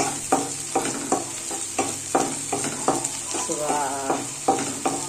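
Onion and chilli fry in a pan with a continuous sizzle, punctuated by regular clinks and scrapes of a spoon stirring, roughly once every half second.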